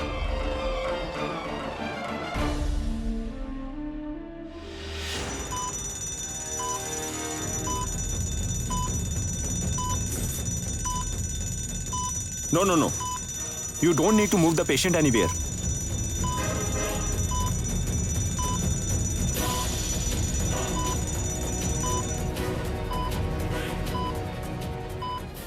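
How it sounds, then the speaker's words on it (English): A smoke alarm goes off indoors, sounding as a steady, loud electronic tone that persists for most of the stretch, while people speak briefly over it. "Actually, someone might have lit a matchstick or something else. Hence, the alarm went off."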